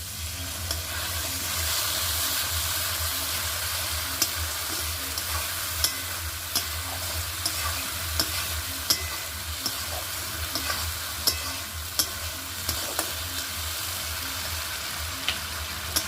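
Spices sizzling in a pan with a little water added, a continuous close hiss and frying crackle with occasional sharp clicks of stirring, no one talking.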